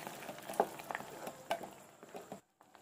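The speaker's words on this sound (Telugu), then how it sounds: "వేయించుకుంటున్నాను. దూరగా మరీ ఎక్కువ వేయించకూడదు." Sago pearls frying in ghee in a pan give a faint, steady sizzle with soft crackles and occasional stirring scrapes, fading to near silence at the end.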